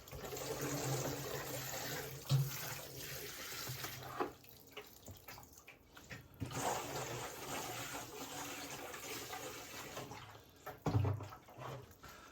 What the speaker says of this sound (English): So I'm just gonna top this up and water them again.